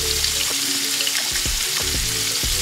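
Small salmon chunks fry in olive oil in a pan, a steady loud sizzle with brief clicks and knocks of stirring over it, no talking.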